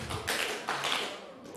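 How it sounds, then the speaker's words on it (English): Brief scattered claps from a small remote audience, about three quick, faint, separate hits with a roomy, quiet background. "if you can hear me, clap 3 times"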